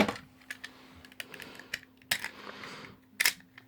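Plastic parts of a 2001 Robots in Disguise Optimus Prime toy being moved and folded, giving sparse sharp clicks and snaps at irregular intervals, close and fairly quiet, with no talking.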